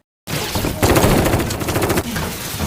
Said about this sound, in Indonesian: segerombolan orang datang dan mereka saling menembak